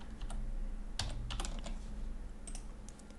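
Computer keyboard keys clatter in short bursts, a few quick taps, then a cluster of presses and a couple more near the end, close and fairly quiet in a still room.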